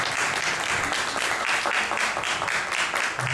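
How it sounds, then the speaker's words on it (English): An audience at a regional deportee conference applauding, steady dense clapping that continues evenly throughout, moderately loud and fairly close, with no speech over it. "Je vous demande d'applaudir encore"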